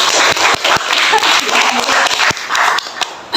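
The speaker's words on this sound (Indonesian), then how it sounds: "tepuk tangan untuk kelompok 1" Classroom students clapping for a group that has just presented, a loud, close patter of uneven hand claps with voices talking over it.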